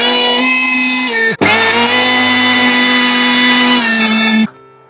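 Loud, steady high-pitched whine of a kitchen mixer grinder pulverizing sun-dried mustard seeds into powder in its jar, with a brief dip around a second in before the motor resumes and then cuts off near the end.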